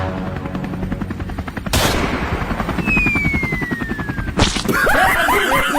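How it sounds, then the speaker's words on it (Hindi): Cartoon gunfire aimed at a helicopter rattles off in rapid bursts over the ongoing rotor chop, with a sharp whistling streak and a brief jumbled cartoon noise near the end. "लोखंडे, मार गोली हेलीकॉप्टर में।"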